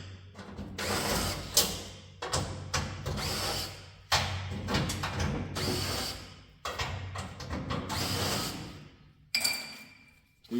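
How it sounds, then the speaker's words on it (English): Power tools whir and grind in bursts while working on a Reddy Heater Pro155 kerosene heater, with short pauses between runs and occasional metallic clinks, fairly close. "I am obviously using some power tools."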